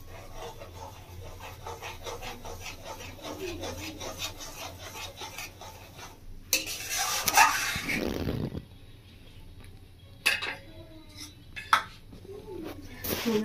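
A spoon rhythmically scrapes and stirs poppy-seed paste curry in a pan, repeated rasping strokes followed by a louder clatter and a few sharp knocks against the pan.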